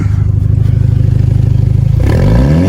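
A loud, raw 2022 Kia Stinger GT-Line engine running with no exhaust or catback idles with a rapid pulsing rumble, then revs up sharply near the end, harsh and unmuffled.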